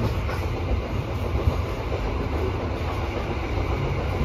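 An Indonesian commuter train between Pasuruan and Surabaya rumbles steadily along the tracks with a continuous low roar and faint rhythmic clatter, close by and fairly loud, with no voices.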